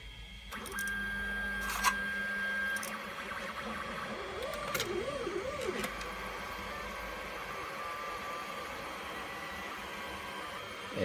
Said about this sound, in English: And it is printing a calibration cube.